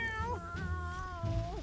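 In a video game, a cat that has eaten poisoned cat food lets out long wavering yowls, loud and close, rising and falling with no other sounds.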